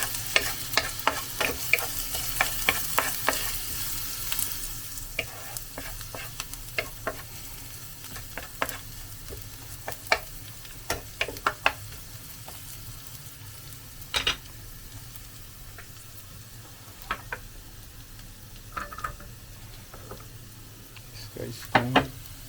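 Garlic sautés in a pan for chicken afritada, giving a soft steady sizzle with a burst of brisk stirring scrapes early on, then sparse clacks of a utensil against the pan.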